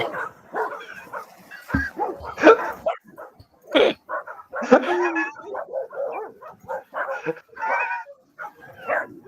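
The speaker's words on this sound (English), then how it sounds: "There's all these dogs." Several dogs bark and yip in quick, overlapping bursts, close and loud, with whiny yelps mixed among the barks.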